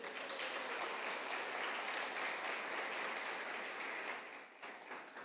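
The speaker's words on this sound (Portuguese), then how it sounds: "Vamos dar uma salva de palmas a Cristo Jesus?" A church congregation applauds together in a sustained, steady burst of clapping that fills the room, then thins and tapers off toward the end.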